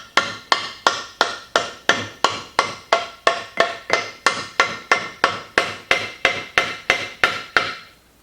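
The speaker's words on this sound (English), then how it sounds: "if you do have to tap it in, just use the butt end of a dead blow or a wooden handle of a hammer" Triumph 650 fourth gear being tapped into its case with a dead blow hammer: a steady run of about sixteen evenly spaced, crisp knocks, loud and close, with no talking.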